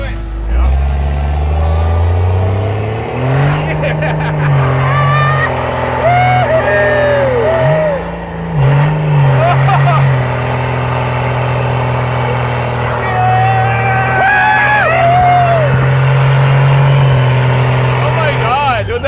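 A Cummins diesel swapped into a Cadillac drones loudly as the car drives, the engine tone rising and falling through gear changes and revs, while people talk excitedly over the steady road and engine noise.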